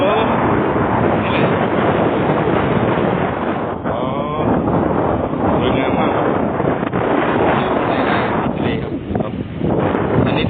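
A cargo tugboat out at sea makes a continuous dense rumble mixed with gusting wind buffeting the microphone, loud and unbroken, while someone speaks over it.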